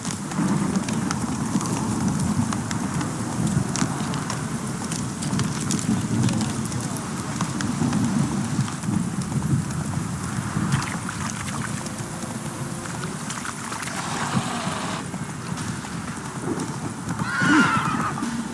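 A horse gallops in The Witcher 3, steady clip-clop hoofbeats running throughout with a whinny near the end, over ambient game noise and occasional faint voices.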